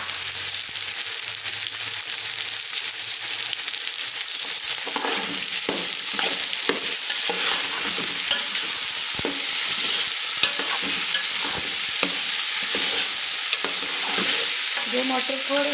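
Tomatoes and green chillies fry with garlic and ginger in oil for matar pulao, giving a close, continuous sizzle broken by repeated scraping and clinking of a stirring spoon.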